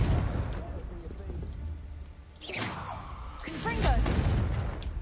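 Confringo explosion spell cast in Hogwarts Legacy: a continuous rumbling blast that dips briefly, then swells into a heavier booming roar, with faint voice-like sounds mixed in.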